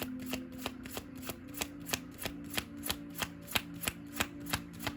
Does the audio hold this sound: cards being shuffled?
yes